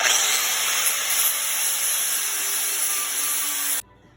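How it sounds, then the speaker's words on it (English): Grinding off the sharp edges of a physics project piece, a loud, steady abrasive rasp that runs unbroken for nearly four seconds close by, then cuts off abruptly into near silence. "We're going to grind off the sharp edges now."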